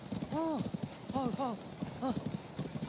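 Horse hooves clip-clop in a steady rhythm close by in a Zelda video game, with a person talking over them in short bursts.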